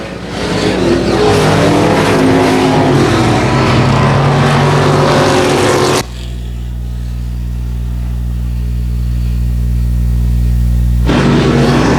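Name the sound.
dirt track race cars racing final lap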